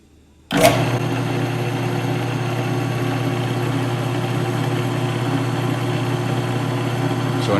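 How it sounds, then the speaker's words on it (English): A WEN 4214 12-inch drill press motor starts abruptly and runs with a steady mechanical hum and whine, close and continuous, with no clear change in speed. "So now we will be increasing the speed of the drill."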